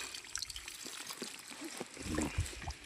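Spring water trickles out of the ground, a soft, close dribbling and gurgling with small splashes that swell near the end.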